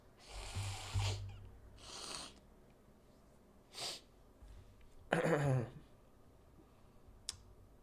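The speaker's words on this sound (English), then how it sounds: "I need to blow my nose." A man blows his nose at his desk in a few separate bursts of forceful nasal blowing and sniffing, close and fairly loud, spread across quiet pauses.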